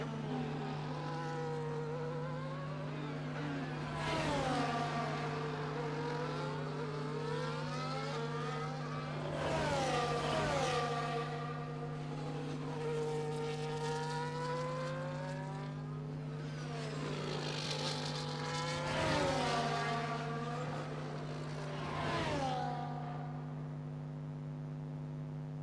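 F1 car engine in the F1 24 racing game on a Portuguese Grand Prix final lap, a continuous high-pitched whine rising and falling through repeated gear shifts and revs over about 25 seconds, heard alone with a steady low hum beneath.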